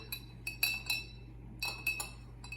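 A metal spoon stirs sugar into a glass of hot water, giving close, light clinks against the glass that come in irregular little bursts, with no talking.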